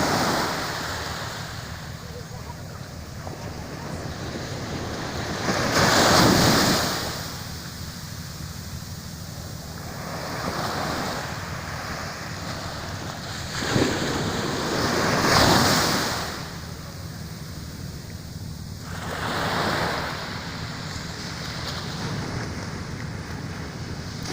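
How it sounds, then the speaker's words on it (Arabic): Strong ocean waves at the harbour of Safi, Morocco, a continuous roar of surf with several louder crashing swells rising and falling, mixed with wind buffeting the microphone. "حتى الصوت ديال الموج حتى هو قوي بزاف"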